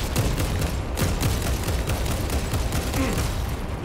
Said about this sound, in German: Immer nur mit dem Granatwerfer.